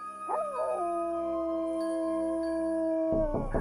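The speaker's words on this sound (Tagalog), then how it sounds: "muli kong narinig ang malakas na alulong ng aso" A dog howls loudly at night in one long, close howl that rises at the start, then holds a steady tone for about three seconds before a brief noisy burst at the end.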